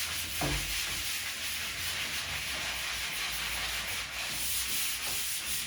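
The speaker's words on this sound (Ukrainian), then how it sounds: "прошліфувати е, шліфувальним папіром або шліфувальним брусочком" Steady, continuous sanding: an even, rough rubbing hiss of abrasive paper on a building facade being prepared for painting, close up, with no voices.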